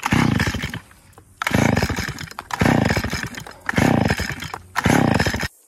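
A gas weed eater on choke is pulled repeatedly to start but won't fire, giving five or so loud, rasping rope-pull whirs at a steady rhythm, separated by short quiet gaps.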